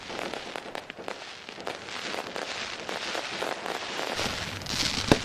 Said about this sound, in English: Lone Wolf Fireworks, lighting up the sky for us here tonight